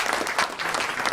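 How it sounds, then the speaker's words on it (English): A crowd at an awards ceremony applauds an Educator of the Year honoree, a dense, loud burst of clapping that holds steady throughout. "if you would all give her a round of applause"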